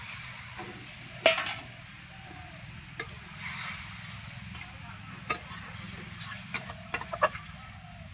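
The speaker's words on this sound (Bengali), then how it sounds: "ঝোলটা ফুটছে, আমি ভাজা উচ্ছেগুলো দিয়ে দেব।" Fried bitter gourd pieces go into a boiling gravy, which gives a soft, continuous bubbling sizzle broken by scattered sharp clicks and clinks of a spoon or pot.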